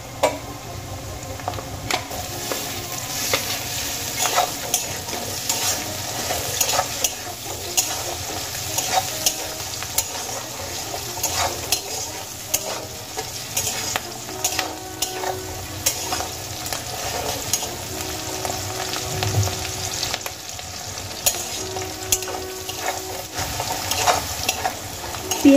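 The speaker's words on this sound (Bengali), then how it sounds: "পেঁয়াজগুলোকে আমি কিছুক্ষণ ভেজে নিয়েছি, এবার আমি এর মধ্যে দিয়ে দেব 5টা কুচানো কাঁচা লঙ্কা" Onions fry with five chopped green chillies in a pan, a continuous close sizzle layered with frequent scraping and tapping of a spoon as the mix is stirred throughout.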